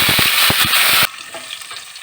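Potatoes hit a hot oiled pan for an aloo baingan salan, giving a loud, dense sizzle with stirring clatter for about a second, then the frying drops to a softer, steady crackle.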